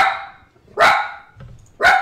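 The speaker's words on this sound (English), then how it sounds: "No, don't bark at me now." Dog barking indoors, three loud sharp barks spaced under a second apart, close to the microphone, with quiet gaps between and no talk.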